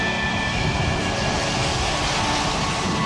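Airplane engine rumble over a residential area about 8 km from Buffalo's airport, a continuous loud, broad roar holding steady throughout with no voices.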